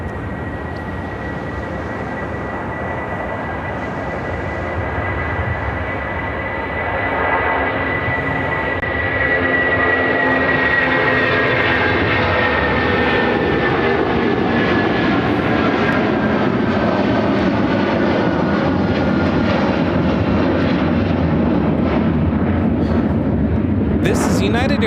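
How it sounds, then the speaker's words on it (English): A United Airlines Boeing 757-200 powers through its takeoff at Chicago O'Hare with a loud, sustained jet roar and high engine whine that swells and then trails off as it climbs, while people talk over it. "United Airlines 2654 taking off to Newark on the 757-200."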